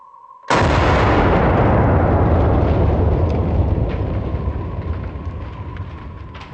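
A single very loud, close M1 Garand rifle shot fired outdoors bursts out and rolls into a long, booming echo that fades slowly over several seconds.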